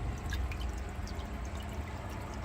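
Water dripping and trickling off a GoPro HERO10 Black just lifted out of water, a close, steady wet patter with small drips scattered through it, no one talking.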